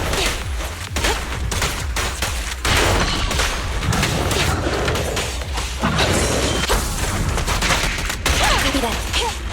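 Rapid, dense gunfire in a combat game pounds nearly nonstop, with heavy booming hits and crashing impacts mixed in and a voice briefly calling out over the chaos.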